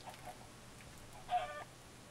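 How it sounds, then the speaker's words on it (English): A Minecraft chicken gives a short, faint cluck over a quiet in-game background, one brief burst partway through. "Oh, hi, chicken."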